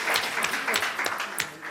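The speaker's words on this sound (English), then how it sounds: "got to clap for that" Applause from people at a community neighborhood meeting, a short run of mid-distance clapping with a few sharp individual claps standing out, over a murmur of voices.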